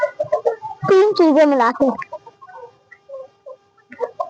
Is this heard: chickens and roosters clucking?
yes